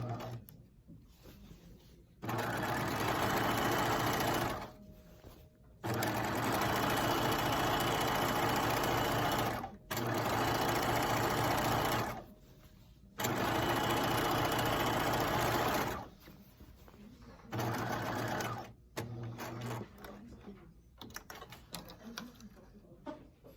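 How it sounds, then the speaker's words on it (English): A sewing machine runs a row of long basting stitches on the front piece of a gathered skirt, whirring in several steady bursts separated by short pauses, close and clear with no talking. "I'm going to do a row of basting on the front piece"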